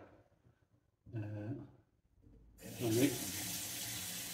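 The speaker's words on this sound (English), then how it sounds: "We have hot water." Hot water gushes from a kitchen tap in a home under renovation, a close steady splashing rush that starts about midway and runs to the end, following a short burst of a voice.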